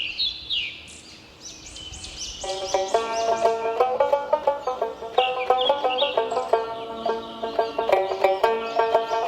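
A cartoon flock of native chickens gives a run of quick, close, chirpy clucks and calls, repeating in a busy, uneven rhythm over a music-like tonal background with no talking.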